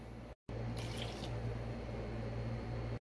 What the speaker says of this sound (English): you're going to want to add the water